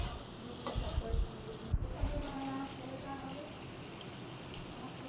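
Chicken pieces with chopped tomato fry in a pan for a Bengali chicken tarka, sizzling softly while a spoon scrapes and stirs in irregular bursts, faint and close.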